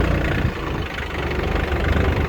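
A Yanmar FX255 25 hp compact tractor fitted with a rotary tiller runs steadily, its engine giving a continuous close, loud chugging drone with a rough mechanical clatter throughout.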